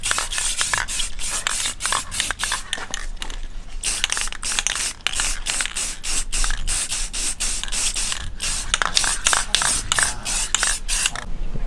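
A rattle can of spray paint hisses in repeated short bursts while coating the inner barrels of SSR Type F car wheels, a rapid stop-start rhythm of close, loud sprays.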